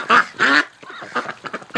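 Female breeding ducks in a tub give loud, close quacks: two long harsh calls, then a quicker run of shorter quacks.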